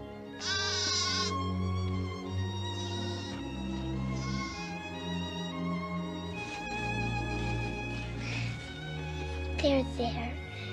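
A cartoon little goat bleats and cries in shaky, wavering calls over a background of orchestral music, with a voice speaking in between.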